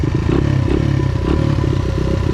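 A small motor scooter rumbles close by with a steady mid-pitched engine drone and some rattling clatter, holding a fairly even, loud level as it goes past.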